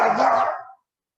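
A dog at home gives a single short, loud bark close by, then silence.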